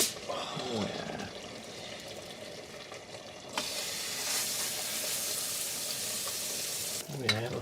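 Naan bread sizzles and fries in a Ridge Monkey pan, a steady close crackling hiss that swells louder partway through, with a voice talking over the start.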